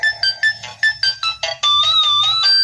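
A mobile phone ringtone plays loud and close, a bright repeating electronic melody of short pulsed notes that runs into a steadier sustained phrase, heard alone in a staged comedy skit.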